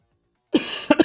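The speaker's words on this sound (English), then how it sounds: "sorry for the coughing into the mic." A person coughs close into a microphone, one sharp cough followed by two quicker ones after a moment of silence.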